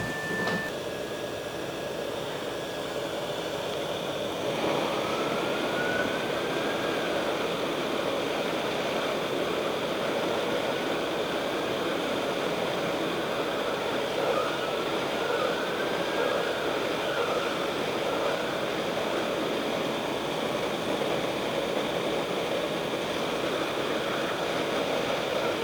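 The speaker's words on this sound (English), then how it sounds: "I'm going to use the air gun to apply some heat." A hot air gun blows steadily to heat a 24C128 EEPROM chip on a Vauxhall Astra CD400 radio board, a continuous loud rushing hiss that holds unchanged throughout with no voices.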